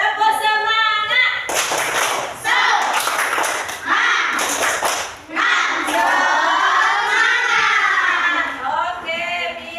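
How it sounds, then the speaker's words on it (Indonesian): Children do a rhythmic 'tepuk semangat' spirit clap, several bursts of clapping in patterned groups mixed with loud children's chanting voices, close and lively throughout. "tepuk semangat."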